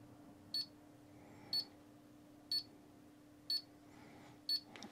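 A KAPRO 985D digital level gives short electronic beeps, repeating evenly about once per second, five in a row, against a quiet low hum.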